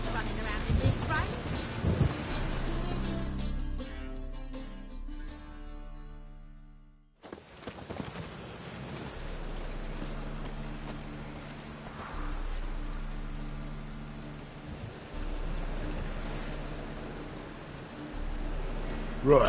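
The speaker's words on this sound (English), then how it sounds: "Must be mad running around in this rain." Rain in The Witcher video game hisses steadily with low rolling thunder; the sound drops out briefly, then the rainfall resumes with deep rumbles underneath.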